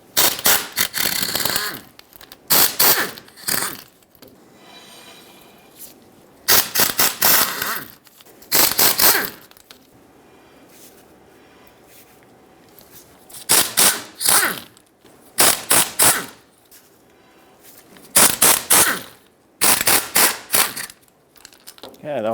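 Impact wrench zipping 15mm bolts off the differential of a 2007-2014 Chevrolet Silverado 2500 HD front axle: repeated loud, sharp rattling bursts of a second or two, separated by quiet pauses, close up.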